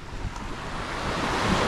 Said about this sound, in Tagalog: Kalma ang dagat.